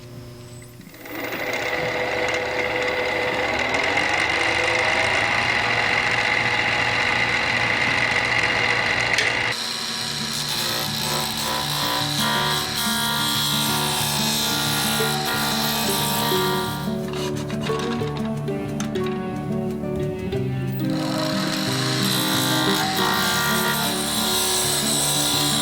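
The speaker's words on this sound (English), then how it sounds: "get this roughed out, and we'll start turning the mallet" A wood lathe roughing out a wooden mallet blank, a steady loud whir with gritty scraping and rasping of the gouge on the spinning wood, shifting in tone partway through, with no talk.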